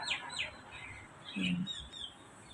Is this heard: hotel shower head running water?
no